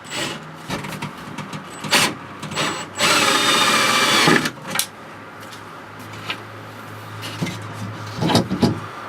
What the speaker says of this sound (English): get these other two hinges drilled up and screwed up